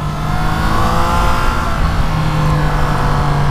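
A Triumph Trident 660 motorcycle from 2021 accelerating on a road, its engine droning loud and steady with a rising tone, heard from close by with strong wind rush.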